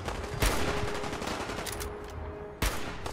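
Gunfire in Fallout 4 VR: two sharp, loud shots about two seconds apart over a steady bed of rumbling background noise.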